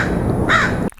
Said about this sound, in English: crows for the background